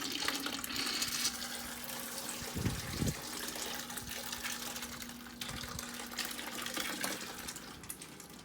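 Water trickles steadily from a pinched fish bag holding a baby bass into an aquarium, a faint continuous trickle with a couple of soft splashy bumps.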